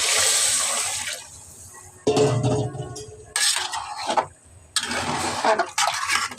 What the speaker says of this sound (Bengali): দিয়ে দিলাম পানি পরিমাণ মতো